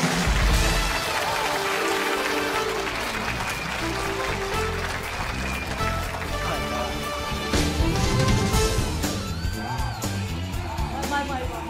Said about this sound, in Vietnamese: xin quý vị cho chúng tôi một tràng pháo tay thật nồng nhiệt